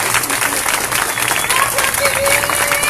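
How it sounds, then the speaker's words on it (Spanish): Loud, lively applause from an audience after a live performance of a protest song, continuous clapping with scattered cheers and voices mixed in. "un aplauso para todas ellas, para todas estas chicas maravillosas."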